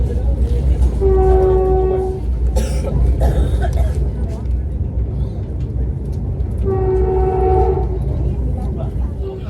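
Vande Bharat Express running, heard from inside the coach as a steady deep rumble, with two loud horn blasts, one early and one near the end, and a few faint background voices.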